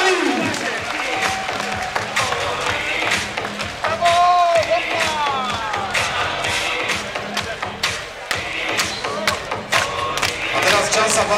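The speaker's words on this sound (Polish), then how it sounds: "Wielkie brawa." Sports fans at a first-league championship celebration applaud and cheer in a dense, loud crowd, with clapping and thuds under amplified talk and echoing sound.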